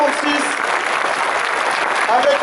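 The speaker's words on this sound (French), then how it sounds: "je pense qu'on peut encore les applaudir" An outdoor crowd at a Paris firefighters' open-house fire demonstration claps loudly and steadily, with voices mixed into the applause.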